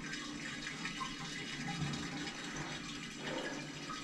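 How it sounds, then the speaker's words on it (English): Water slowly draining from a backed-up bathtub in an apartment building, a steady low gurgling and trickling rush that runs continuously, fairly faint and without talk. "why is the drain going out so slow?"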